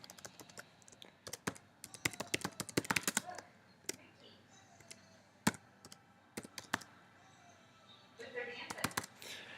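Computer keyboard typing in a quiet room: bursts of quick, crisp key clicks in irregular runs with short pauses between, close and fairly clear, some light background noise and no talking.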